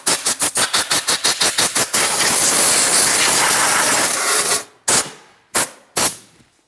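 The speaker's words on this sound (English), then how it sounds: "And now we can use some compressed air." Compressed air blasts across the intake of a 2007-2014 Ford Edge 3.5L V6, first as a quick run of short rhythmic bursts, then a long loud sustained hiss, followed by three separate sharp puffs.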